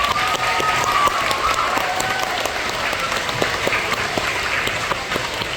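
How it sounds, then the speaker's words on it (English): An elementary school assembly crowd claps steadily for the fundraiser helpers, a thick, sustained round of applause with a few faint voices mixed in. "Can you help me give them a round of applause?"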